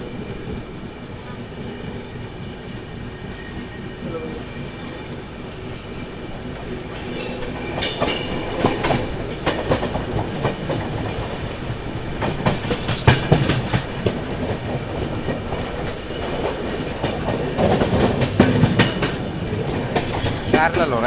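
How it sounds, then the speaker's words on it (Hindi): The Barauni Gwalior Mail passes close by alongside a moving Indian train, with rumbling wheels and rapid clickety-clack over rail joints building in loudness, heard steadily over background noise. "देखो वहाँ पर निकल रही है बरौनी मेल, बरौनी ग्वालियर मेल"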